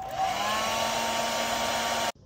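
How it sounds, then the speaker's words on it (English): A hair dryer blows on cheap craft-store acrylic paint in a steady, loud, close whine for about two seconds before being switched off abruptly. "what we do to speed drying up, these are just cheap craft store acrylics, is use a hairdryer."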